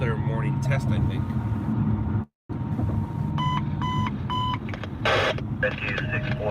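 Fire station alarm test tones during a morning check, heard as repeated stacked electronic beep sequences over a constant radio hum and low background noise, with a brief dropout partway through.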